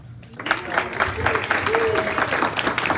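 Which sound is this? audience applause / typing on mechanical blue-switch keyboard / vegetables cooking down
audience applause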